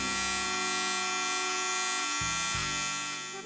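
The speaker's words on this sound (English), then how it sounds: "with the small portable clippers, I'm going to sharpen the hairline up and just go around the ear" Small portable electric hair clippers buzz steadily and close, trimming around the ear and the hairline, with a brief dip in the motor pitch partway through as the blades meet hair.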